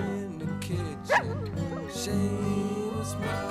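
A dog barks, whimpers and howls through a song, its yips rising over the music's steady instrumental bed.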